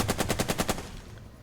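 Gunfire in the war strategy game Burden of Command: a rapid burst of about eight evenly spaced machine-gun shots, loud and close, then trailing off into silence.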